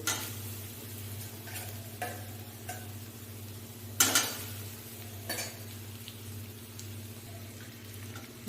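Fried potatoes are stirred with turmeric and cumin powder in a pan for aloo dum, giving a soft, steady sizzle broken by a few sharp clinks of a spatula against metal.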